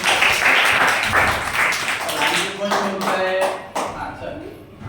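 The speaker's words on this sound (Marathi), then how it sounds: "चला टाळ्या वाजव तिच्यासाठी" A group of children claps together in a classroom, a burst of quick uneven clapping that thins out over a few seconds while a voice talks over it.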